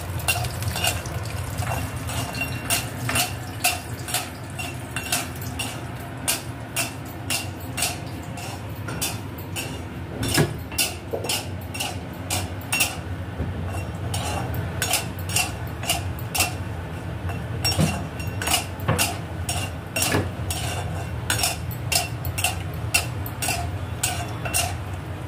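Lentil dumplings (bori) frying in oil in a pan, with frequent sharp clicks and scrapes of a metal spatula stirring them over a low bubbling sizzle, close and steady throughout.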